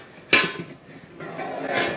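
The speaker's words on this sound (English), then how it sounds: "our dough has reached about 1 inch from the top of the pan. So now we can put the lid on" A metal lid set onto a bread loaf pan in a kitchen, giving a sharp clank followed by a quieter scrape and a second metallic rattle as it settles into place.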